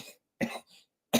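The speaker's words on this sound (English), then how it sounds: "Y'all got me coughing." A man coughs a few times in short, sharp, close bursts with brief gaps between them, and no speech around them.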